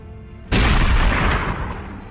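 A single loud gunshot-like blast from a war movie about fighting aliens bursts in after a brief quiet stretch and fades slowly into a booming, rumbling tail, with no one speaking.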